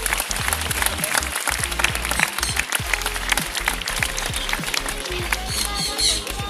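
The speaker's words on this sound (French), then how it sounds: "on va vous demander un tonnerre d'applaudissements s'il vous plaît sur le rang." Dense, sustained applause from an audience at a parrot show, steady clapping filling the whole stretch with a slight swell near the end, no talk over it.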